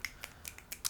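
A few people snap their fingers in place of clapping, poetry-reading style, producing a handful of sharp, quiet clicks spaced irregularly across a second in a small, calm room.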